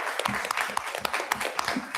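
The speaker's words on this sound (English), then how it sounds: "Let's give them a round of applause." A short round of applause at a school board of education meeting, moderate clapping with distinct individual claps standing out, fairly close.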